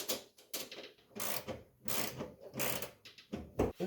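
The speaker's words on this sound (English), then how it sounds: "Get a quick tighten on the starter here." A hand ratchet tightening the starter bolt on a Subaru WRX wagon race car gives short, clicking bursts of ratcheting strokes in quick succession, close and fairly quiet with brief gaps between pulls.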